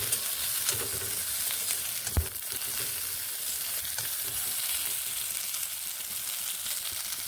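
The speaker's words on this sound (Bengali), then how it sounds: "এখানে ভেজে রাখা বেগুনগুলোকে আমি দিয়ে দিলাম একসঙ্গে এবার এইভাবে মিলিয়ে নিচ্ছি" Fried eggplant being mixed into soft-cooked pumpkin in a frying pan, a steady close sizzle with occasional scraping stir strokes and one brief knock near the start.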